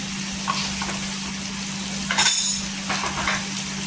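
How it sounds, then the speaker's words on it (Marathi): Ground spices, turmeric, chili and coriander powder, stirred and fried in a pan for an eggplant bharit, giving a soft continuous sizzle with a few light spoon scrapes and one louder clatter midway, over a steady electrical hum. "इथे मसाले मिक्स करायचे"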